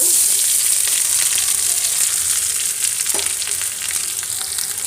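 Onions frying loudly in hot sesame oil with popped mustard seeds, a close, continuous bright sizzle with a few faint stirring scrapes and no voices.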